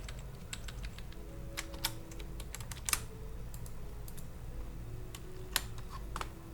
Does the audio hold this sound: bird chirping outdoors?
no